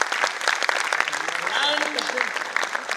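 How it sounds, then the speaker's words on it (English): Audience applause at a TCS InQuizitive 2024 regional quiz final in Ahmedabad, a steady crowd clapping for the eight finalists, with some voices and chatter mixed into the ovation. "Can we have a round of applause for all the 8 of them?"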